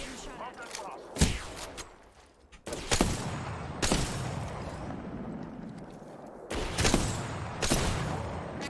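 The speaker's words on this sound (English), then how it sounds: "Getting shot at." Gunfire in a video game, with sharp bursts of shots and echoing blasts repeating over several seconds, loud and close, while players talk in the background.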